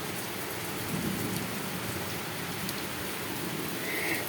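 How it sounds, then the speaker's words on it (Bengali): Steady rainfall pours down outdoors in a continuous even hiss of drops on surfaces, with no talk over it. "দেখো এই মানে আমাদের এখানে এই দেখো বৃষ্টি পড়ছে"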